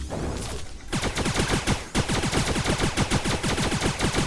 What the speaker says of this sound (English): So you can see I can just fire non-stop on this guy and it's no big deal.